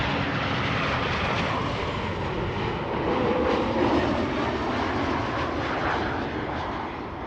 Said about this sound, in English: KLM Flight 1056 arriving from Norwich and Embraer 190.